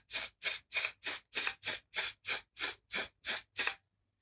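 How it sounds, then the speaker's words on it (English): Eleven short, evenly spaced bursts of aerosol fixative sprayed over a colored pencil drawing, each hissing spray about a quarter second long, crisp and close with brief silences between. "you're going to give it a few quick sprays"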